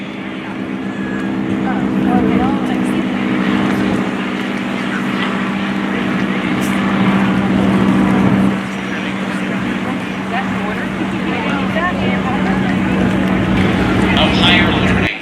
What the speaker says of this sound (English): here come the Texans, the 600 horsepower, 2 flights of 4. Listen to the sound that they make as they go over.